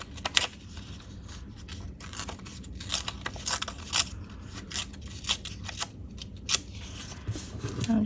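Paper being torn by hand for a junk journal cluster, a series of short close rips and crinkles in irregular bursts, heard alone.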